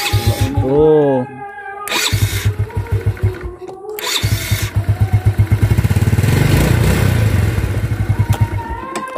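A Yamaha Vega ZR motorcycle's repaired electric starter cranking the engine in short bursts, then the engine catching and running with a loud, rapid rhythmic putter nearby; a brief voice exclamation comes at the start.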